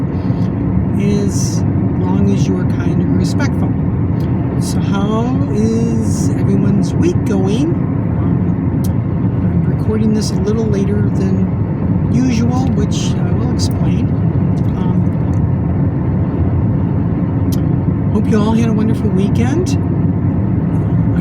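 Steady car road noise while traveling, a constant low rumble from a moving vehicle heard throughout beneath someone talking close to the microphone.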